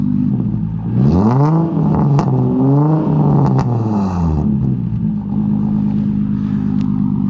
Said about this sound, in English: Let me give you guys a little rev, see how the HKS straight pipe sounds.